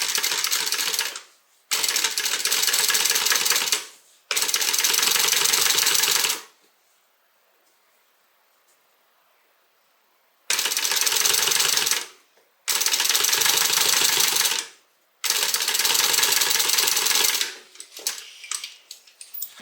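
Sewing machine top stitching along a zipper tape for a bag pocket, loud close whirring bursts of a few seconds each separated by short pauses and one longer silence, ending in quick choppy stitches.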